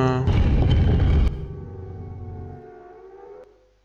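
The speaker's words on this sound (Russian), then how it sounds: "Сирена какая-то там гудела, вы слышали?" A siren wails in the video game Silent Hill, a loud droning tone that holds steady, drops sharply after about a second, then fades out slowly and alone.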